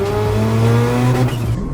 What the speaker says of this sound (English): I got the noise of the rotary.